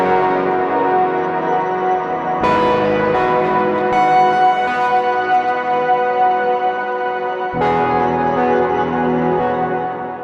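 A free software instrument run through a chain of boutique effects pedals, producing a loud, bell-like tone with rich overtones that sustains and swells, shifting character mid-way and again near the end, with no talking.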